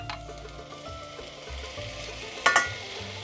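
A dressing is poured over sweet and hot peppers in a frying pan for an Afghan-style eggplant dish. A steady loud sizzle runs throughout, and two sharp metallic clinks come near the end.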